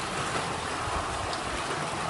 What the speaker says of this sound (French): Comme vous pouvez le voir, il pleut.